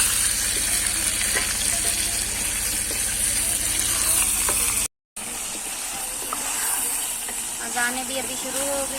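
Chicken karahi sizzles and hisses in a wok over a village cookfire, a dense continuous frying sound that pauses briefly and then resumes more softly, with people talking in the background.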